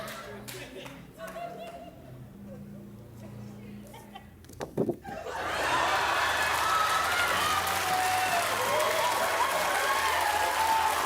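A studio audience of women breaks into loud applause and cheering on a talk show, a dense, steady roar that starts midway, after a few seconds of quieter mixed background noise and a brief clatter.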